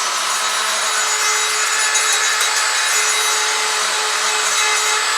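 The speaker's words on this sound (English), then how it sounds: "now I'm going to switch to a small sanding drum for my rotary tool and see if I can't soften some of these edges a little bit" A rotary tool fitted with a small sanding drum grinds steadily against the edges of a turned wooden fluted pot, a continuous close, even abrasive whine with no talk.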